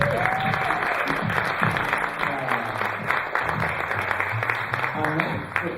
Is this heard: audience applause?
yes